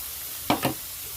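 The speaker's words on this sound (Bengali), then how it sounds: "এখন দিয়ে দিচ্ছি পেঁয়াজ দিচ্ছি আদা দিচ্ছে কাঁচা লঙ্কা কুচি" Onion, ginger and chopped green chilli dropped into hot oil with browned garlic give two quick bursts of sizzle and stirring close by, then settle into a faint, steady background hiss.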